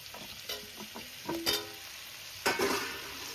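Papaya and potato pieces fry in a pan as cut pumpkin is tipped in, part of a water lily stem (shapla) dish; a soft steady sizzle runs under scraping stirs, broken by two louder hissing bursts.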